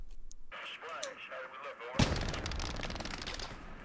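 A voice speaks briefly during World War II shooter gameplay in Hell Let Loose, then a sudden loud crack opens a sustained stretch of rapid, rattling gunfire that carries on steadily to the end.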